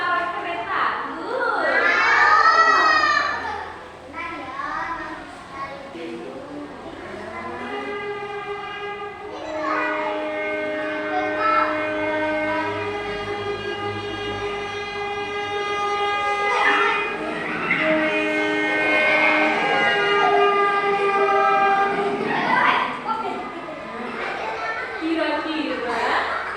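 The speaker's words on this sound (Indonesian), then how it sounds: "Kamu mau tahu suara keretaku?" A train horn sounds in long sustained blasts over rumbling rail noise, with a voice speaking around it.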